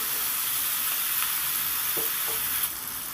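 Okra being sautéed with masala in a pan, a steady close frying sizzle with soft scraping stirs, no voices.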